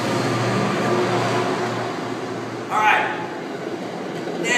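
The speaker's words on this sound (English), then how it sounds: "Hang tight, we got a train coming by here." A train rolls past near an outdoor workout spot, a loud continuous rumbling roar that holds steady throughout, with someone speaking briefly over it.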